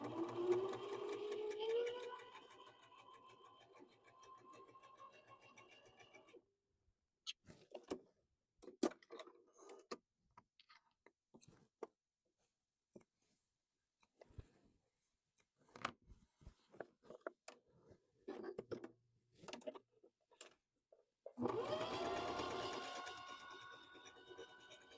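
A Bernina sewing machine runs a straight zigzag stitch in two fairly quiet stretches at the start and end, with scattered clicks and handling taps between them.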